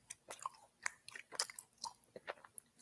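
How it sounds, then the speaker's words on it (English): A person chewing food close to the mic, with a string of wet, crunchy bites and mouth sounds repeating in an uneven rhythm and no talking. "Oh, gosh, make this chewing stop."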